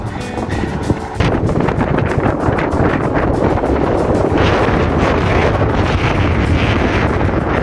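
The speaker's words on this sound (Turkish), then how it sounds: "Şu an direkt kafa rüzgarı var." A strong headwind on a cycling tour between Finike and Elmalı buffets the microphone with loud, constant roaring rumble that covers nearly everything, after a brief quieter moment at the start.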